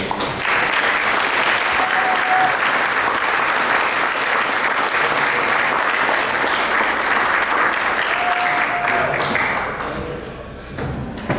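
An audience at a Republican event at The Rock Golf Club in Waupun welcomes speaker Dan Kelly with loud, sustained applause. The clapping holds steady for about nine seconds, then fades out.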